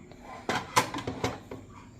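Dishes, pots and pans clatter in a home kitchen after a meal, with several separate clinks and knocks spaced out over about two seconds at moderate loudness, alone.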